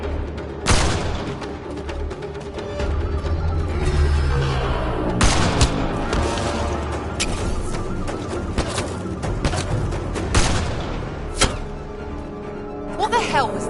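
Repeated gunshots and bursts of gunfire ring out in a Mass Effect Andromeda firefight, sharp cracks and booms scattered across the scene amid music and effects, with voices shouting over the shooting.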